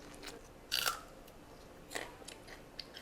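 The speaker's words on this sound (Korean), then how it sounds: "아삭하는 소리. 아삭아삭." Crisp crunch of someone biting into fresh home-grown vegetables at an organic family meal table, one sharp bite up front followed by a softer second crunch and faint chewing, fairly quiet with no talk.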